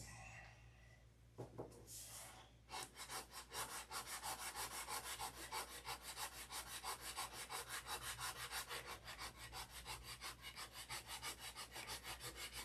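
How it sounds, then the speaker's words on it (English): Wood is sanded by hand in fast, even back-and-forth rasping strokes, close and steady, after a short pause and a couple of brief scuffs at the start. "sanding and sanding"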